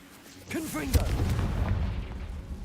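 A Confringo blasting spell from Hogwarts Legacy goes off as a single sharp, booming burst with a rumbling tail, following a short stretch of speech-like voice.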